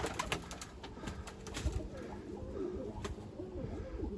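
Tumbler pigeons and a turtle dove coo in a loft, soft repeated low cooing calls overlapping one another, near and steady, with faint voices in the background.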